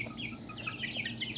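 Pheasant-chicken hybrid chicks in a brooder give a quick run of thin, high-pitched peeps and chirps that overlap one another at moderate volume, with no talking.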